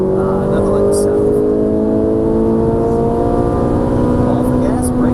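A Ferrari 458 Italia engine drones steadily and loudly, its pitch climbing gradually as it accelerates, with a continuous smooth whine throughout.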